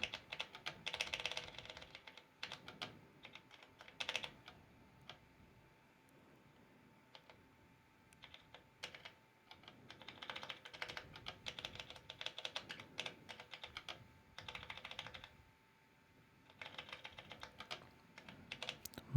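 Buttons on an Elektron Digitakt are pressed to type a file name, a close series of small plastic clicks and taps coming in irregular bursts separated by quiet pauses.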